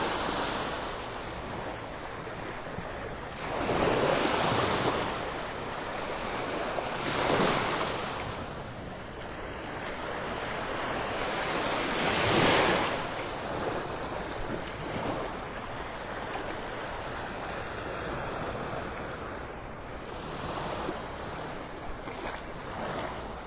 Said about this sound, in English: Can you feel those little waves washing across your toes?